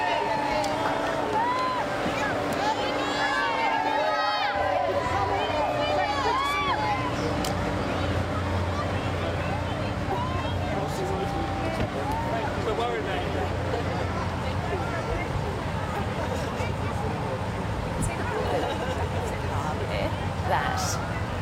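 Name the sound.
crowd cheering for the King and Queen's royal tour in Canberra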